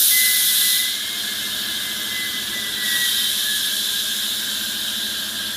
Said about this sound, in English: Bleed off the pressure, use it to open the filter valve.